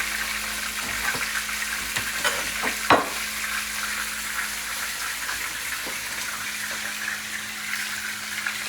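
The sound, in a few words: stew with onion, tomato, pimento cooking in pot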